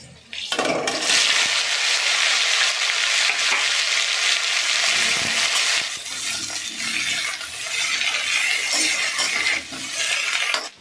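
Chilies sputter in hot ghee as a tempering for okra bhujia, a loud, close crackling sizzle that starts suddenly, dips briefly midway and surges again. No one talks.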